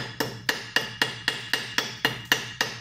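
A welding hammer strikes metal in ten sharp, evenly spaced ringing blows, each a loud close clank that decays quickly, with no talking.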